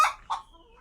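Local chickens let out two short, sharp clucks in quick succession, fairly close and a little faint, followed by a quiet trailing call.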